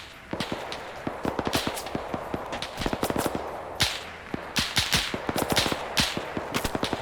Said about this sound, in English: Just seeing some suppressing fire.